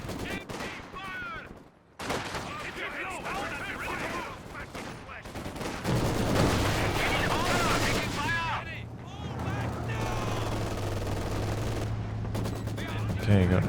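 Maxim machine gun and heavy mortar fire in a Company of Heroes 2 multiplayer battle: steady bursts of automatic gunfire and dull explosions run throughout, with someone talking over the combat.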